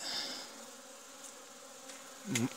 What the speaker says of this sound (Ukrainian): Бджолородини, які в цім вулику, гарно облітаються, їх тут дві.